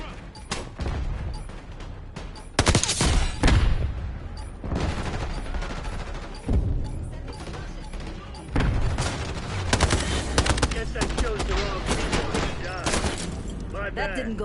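Bursts of rapid gunfire in the FragPunk shooter game, dense volleys and single shots rising and falling over a steady game background, with a player speaking over the action.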